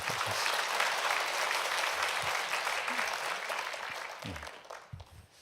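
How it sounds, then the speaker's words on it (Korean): A church congregation applauds during a Wednesday daytime worship service at a Baptist church, a broad, dense round of clapping that slowly thins and fades out toward the end. "다시 한번 우리 하나님께 영광의 박수 올리고"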